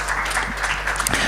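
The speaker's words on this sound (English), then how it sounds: "Let's give him a warm round of applause as well." Audience at a retail industry conference and awards event applauding a speaker's introduction, a dense, steady patter of many hands clapping close by.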